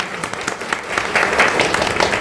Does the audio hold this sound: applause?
yes